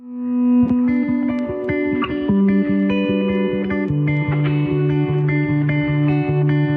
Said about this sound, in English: An electric guitar with a reverse to bring in smoothly.